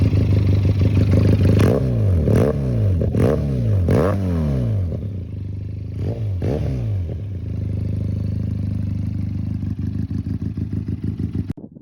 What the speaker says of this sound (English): what I really love about this bike is its unique sounding engine. So it's 2 cylinders, but it purrs like a triple.